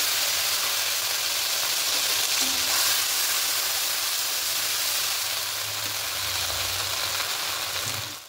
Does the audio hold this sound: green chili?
yes